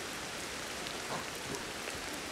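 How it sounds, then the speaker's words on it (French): Steady rain ambience in the survival game Ancestors: The Humankind Odyssey, a dense, even hiss of falling rain on foliage and ground with no speech, holding constant throughout. "Grosse ambiance de pluie."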